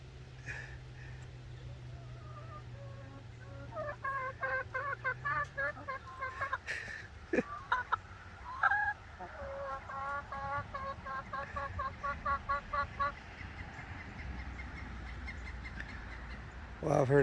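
Chickens cluck on a cold asphalt roof in short repeated bursts, close by, with a low steady hum underneath and a few sharp knocks in between.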